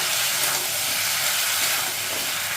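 Steady, dense sizzling hiss of Malabar spinach being stirred with a hilsa fish head in a hot pan, continuous and even throughout with no voices.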